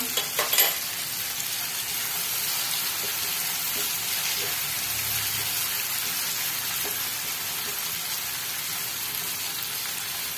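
Green chili pieces sautéing in hot oil for a restaurant-style tikka gravy, giving a steady hissing sizzle that runs evenly after a brief burst of utensil clatter at the start, close and with no talking.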